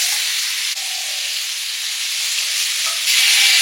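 Onion paste hitting a hot pan with turmeric, chilli powder and salt, giving a steady, loud broadband sizzle and hiss that holds through, swelling slightly near the end, with no talk over it.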